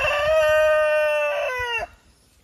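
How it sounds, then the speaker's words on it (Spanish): A rooster crows once, close and loud, a long strident call with a falling tail, from a farmyard flock of six hens and two roosters. "Seis gallinas con dos gallos."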